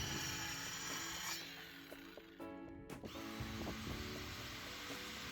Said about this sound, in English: Please remember to cut face down as shown here using a fine tooth aluminium blade.